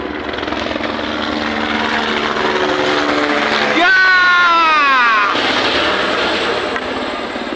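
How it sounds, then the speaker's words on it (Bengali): A helicopter lands at Kedarnath in the mountains, its loud, close engine roar and turbine whine swelling to a peak and sweeping downward in pitch as it settles. "ভারতের সুইজারল্যান্ডে হেলিকপ্টার নামলো।"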